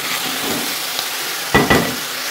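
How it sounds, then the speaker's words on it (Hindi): Rice being stirred into sizzling khoya syrup for sweet orange zarda, a steady fry hiss with two sharp scraping stirs near the end, close and fairly loud. "बस हमने चावल डाल दिए हैं, अब हम इसको मिक्स करेंगे जल्दी से।"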